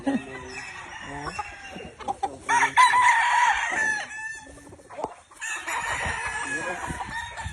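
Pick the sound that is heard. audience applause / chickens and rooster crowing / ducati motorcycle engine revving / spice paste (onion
chickens and rooster crowing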